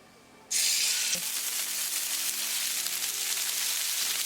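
Salmon drops into a skillet of hot olive oil, and a sudden loud sizzle bursts out after a quiet moment, then holds as a steady, close frying hiss.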